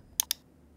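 Two quick, sharp clicks of a computer mouse in close succession, close and distinct against a quiet room.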